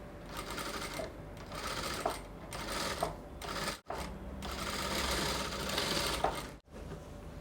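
A sewing machine runs steady bursts of stitching along a folded quarter-inch fabric hem on a dress, with brief pauses between runs and a sharp click at each stop, close and clear, with no talk.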